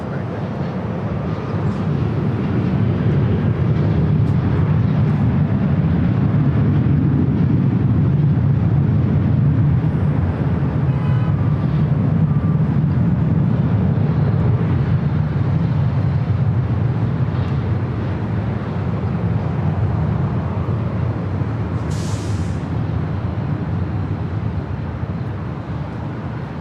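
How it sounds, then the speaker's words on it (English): Boeing 737-700 jet taking off at LAX, a sustained loud low-frequency engine roar that stays steady and close for the whole stretch, with a faint broadband rush of air over it. "the 737-700 taking off to San Jose"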